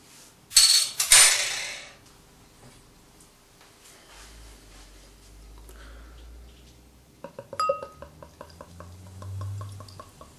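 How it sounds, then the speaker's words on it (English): Coniston Infinity IPA, a 6% highly hopped ale, glugs from a bottle into a glass: a loud initial splash and gurgle, then a quieter fizzing pour with small clinks toward the end. "The beer's pouring with medium carbonation."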